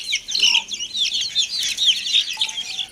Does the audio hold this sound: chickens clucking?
yes